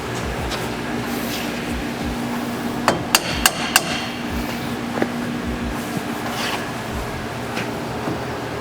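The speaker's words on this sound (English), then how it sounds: "You measure with a hammer, not a tape measure." Hammer blows on a truck bed tire carrier, a short cluster of four sharp metallic strikes mid-clip, with scattered lighter taps and steady background noise around them.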